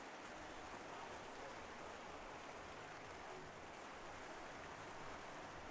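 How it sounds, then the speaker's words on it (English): Heavy rain pours steadily at an outdoor show-jumping arena, a dense, continuous hiss with no breaks that stays loud and constant throughout, with no voices heard. "you can probably hear it now. It is really coming down."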